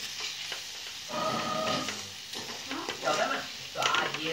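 Mango pieces being stirred with sugar in a hot pan, a steady sizzle with scraping stirs swelling in bursts, close and fairly loud, no talking.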